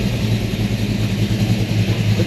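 A 1966 Ford F100 or 1973 Mach 1 Mustang's 30-over 351 Cleveland V8, with no choke, running while it warms up, a loud close steady rumbling idle with a throbbing low pulse and no talk.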